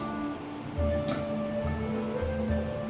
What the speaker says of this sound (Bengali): এই যে জলটা গরম হয়ে আসছে প্রায়